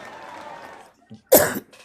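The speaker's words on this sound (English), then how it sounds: "I got that little coughing thing going on" A single sharp, loud cough bursts out after a stretch of quiet talk, followed by a brief pause and a faint trailing breath.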